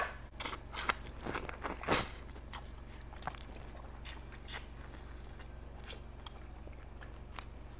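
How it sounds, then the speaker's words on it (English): King crab shells from a seafood boil snap and crunch under bare hands, with several sharp cracks close up at first, then fading into quieter rustling and faint crackles. "The shells, you could literally just cut it with your fingers."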